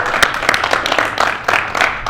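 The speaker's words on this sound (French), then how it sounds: "moi je t'applaudis en tout cas" Audience clapping at a French rap competition show, a dense patter of hands with sharper bursts rising and falling throughout, steady and fairly close.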